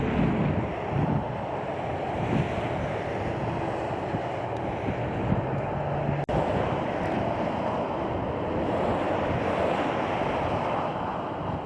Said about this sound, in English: Considering the wind's blowing about 10 miles per hour